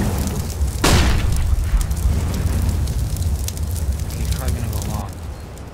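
An incendiary grenade is thrown in CS:GO: a sharp burst just under a second in, followed by a steady roaring, crackling fire, with a player talking over it.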